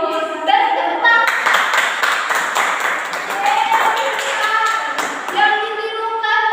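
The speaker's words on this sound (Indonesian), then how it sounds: "Beri tepuk tangan." Students in a primary-school science class clap together, a dense burst of applause that rises after a brief pause and continues steadily, with children's voices calling out over it.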